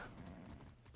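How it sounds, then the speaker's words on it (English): A horse's hooves clip-clop in Far Cry 6, a quick run of faint, rhythmic footfalls over a dense, low game background. "look at my horse while playing this game"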